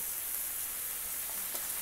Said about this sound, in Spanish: huele tan rico cuando está friendo esta salsita